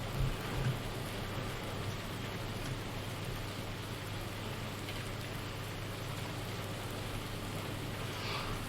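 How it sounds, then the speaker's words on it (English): Steady, soft rain hisses in Farming Simulator 19, a continuous even wash of falling drops with no break, faint and constant throughout. "Still going to rain till about midday"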